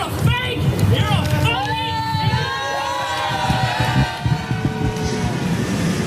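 A large crowd shouts and jeers angrily, many voices overlapping in loud, sustained protest with sharp individual yells rising above the din.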